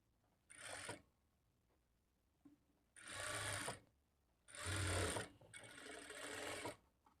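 A sewing machine stitches a lining blouse in four separate bursts of rapid mechanical whirring, the later runs longer, with quiet pauses between them.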